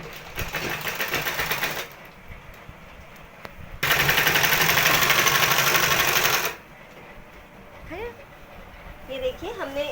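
A sewing machine stitching palazzo pants, running in two bursts of fast steady whirring, the second louder and longer, with a person speaking in the quieter stretches between.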